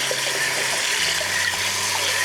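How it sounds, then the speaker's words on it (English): Hot soapy water runs steadily while canning jars are rinsed in a home kitchen, a loud, continuous rushing gush with no voices over it. "So I just wipe everything down with hot soapy water, rinse it off."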